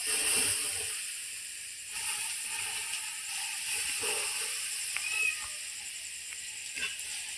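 Water poured onto the hot fire of a clay cooking stove hisses and sizzles as the flames die, a soft steady hiss with faint crackles and no talk.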